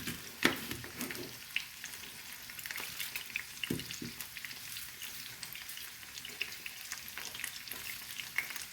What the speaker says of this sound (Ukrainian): Так що, поки смажиться цибуля,